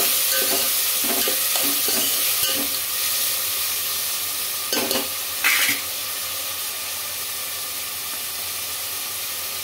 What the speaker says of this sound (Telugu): ఇప్పుడు ముందుగా కట్ చేసి పెట్టుకున్న టమాటా ముక్కలు అయితే వేసుకుంటున్నానండి